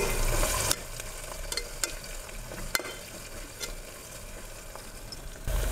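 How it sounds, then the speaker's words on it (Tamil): Green chillies, ginger and garlic sautéing in a pan for kodo millet kichadi: a close, crackling sizzle with sharp stirring clicks and scrapes, louder at the start and end. "இதெல்லாம் வதங்கிறோம்."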